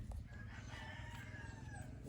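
A hen clucks and chickens call in a low, continuous murmur of farmyard fowl sounds, faint and close, with no clear talking.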